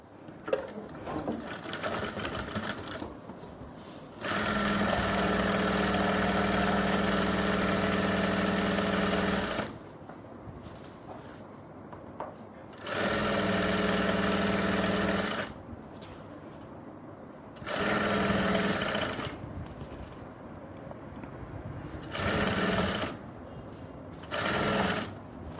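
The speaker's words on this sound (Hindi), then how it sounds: "गिदरी की सिलाई।" A sewing machine stitches the crotch seam of women's pants in a tailoring class, running in four long steady whirring bursts of several seconds each, separated by quiet gaps where someone speaks.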